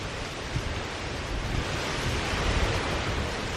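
Strong wind buffets the microphone in a steady roar on a beach, with surf crashing continuously underneath; no voices, just blustery outdoor noise throughout.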